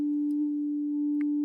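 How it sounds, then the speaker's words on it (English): A basic sine wave from the Vital synthesizer holds as one pure, steady, unwavering tone at constant loudness for the whole moment. "Basic sine wave."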